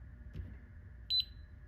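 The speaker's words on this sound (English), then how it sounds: "that beep says, it says your barcode scanner is now connected to the point of sale" A barcode scanner connected to a point-of-sale register gives a short double beep, two quick high tones over a faint steady hum in a quiet room.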